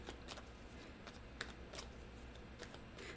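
Tarot cards being shuffled, a steady soft riffling with occasional sharper snaps of card edges, quiet and close, with no talking.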